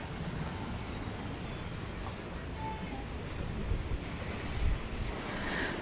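Rough surf and gusting wind on a Mallorca beach during Storm Benjamin, a steady broadband roar of breaking waves with wind buffeting the microphone and a few heavier surges, no voices.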